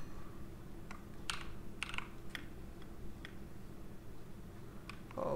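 Someone types on a computer keyboard fitted with new key switches, producing a few quiet, scattered clicks over a low steady background hum, with no speech.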